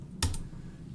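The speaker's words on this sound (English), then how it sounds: "I'll type it in the chat." A computer keyboard gives one brief, close burst of two quick key clicks during an online class assembly, then a quiet room.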